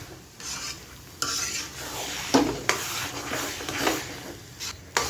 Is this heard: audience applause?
no